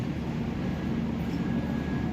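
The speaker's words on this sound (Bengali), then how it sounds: "এই হচ্ছে আমাদের ট্রেন" A Banaras to Dehradun passenger train at Pratapgarh Junction, heard as a steady low rumble and hum with no distinct events, close and fairly loud.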